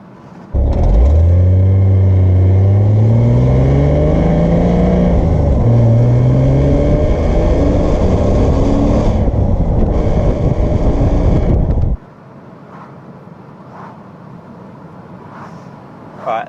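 A Porsche 986 Boxster S engine revs up loudly while driving, pitch rising and falling through several sweeps for about eleven seconds before cutting to quiet road noise with faint knocks.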